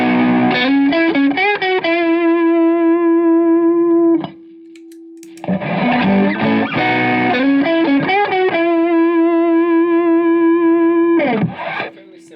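Electric guitar played through a Snouse Blackbox 2 overdrive pedal with the gain turned up, giving loud, sustained driven chords and single notes with rich harmonics, a brief quieter held note midway, then more strummed phrases, with no talk.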